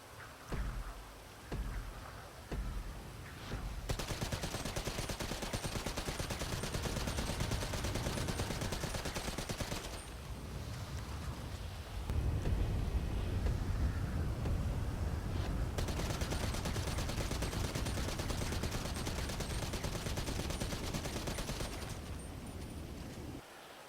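Assault rifle fire in the video game GTA Online, likely the EL Strickler rifle: long sustained automatic bursts, dense and continuous, broken by a few short pauses and a stretch of shifting tone, loud and steady throughout.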